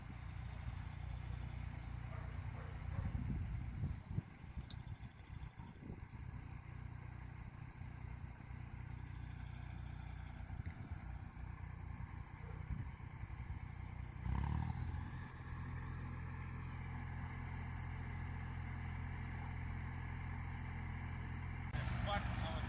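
A Ford 1900 tractor's diesel engine idles and rumbles steadily up close, with a few louder clattering bursts and a faint voice speaking beneath it.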